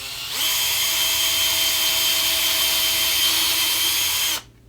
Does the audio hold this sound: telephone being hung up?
no